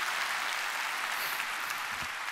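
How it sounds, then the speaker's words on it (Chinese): An audience at a corporate training event applauds, a dense, continuous clapping that fills the whole moment at steady loudness. "我们再给Petir胎盘素第6代一个掌声。"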